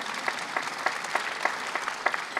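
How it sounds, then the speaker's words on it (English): A film premiere audience claps steadily, a soft, fairly distant patter of applause with regular accents, no voices. "you can applaud the costumes"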